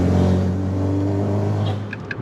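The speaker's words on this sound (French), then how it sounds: "Et là, comme vous pouvez le voir, j'accélère." Abarth car with a Stage 3+ tune accelerating, a steady low engine drone that stays fairly quiet and restrained, building slightly without loud revving, heard from inside or close by.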